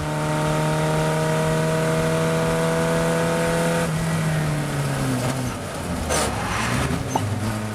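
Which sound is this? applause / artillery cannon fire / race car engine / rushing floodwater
race car engine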